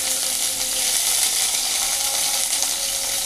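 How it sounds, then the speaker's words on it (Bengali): Bitter gourd fries in hot oil, giving a loud, continuous, even sizzle up close with no voices. "এবার আমি উচ্ছেটা ভেজে নেব।"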